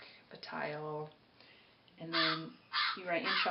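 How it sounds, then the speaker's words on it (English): A phone's crow-caw ringtone sounds three times, loud harsh caws with pauses between, while a person talks over it. "That's not a crow in my house, that's my phone"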